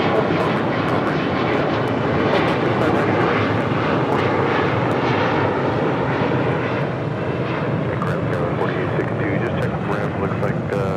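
An airliner roars at Los Angeles International Airport, a loud, steady jet rumble filling the whole stretch without letup, with radio voices heard faintly underneath.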